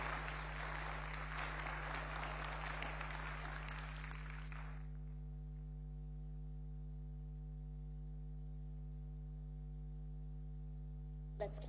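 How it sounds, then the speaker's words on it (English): An audience claps steadily after a professor's lecture on the ethical and legal framework of artificial reproduction. The applause is moderate and continuous over a constant electronic hum, then stops abruptly, leaving only the hum. "Let's clap one more time for him"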